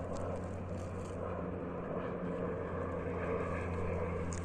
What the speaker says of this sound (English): Float plane.